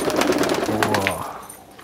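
Pigeons in a loft of Giribaj and Madrasi high-flying birds give soft, low cooing calls close by, one sustained coo in the middle among faint rustling and brief chirps.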